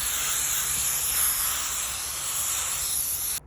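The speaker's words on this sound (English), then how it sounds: "I'm going to spray everything like up to the chocolate line." Aerosol spray can hissing steadily onto a polystyrene Christmas blow mold during a repair, a continuous close, bright spray that runs unbroken before cutting off abruptly at the end.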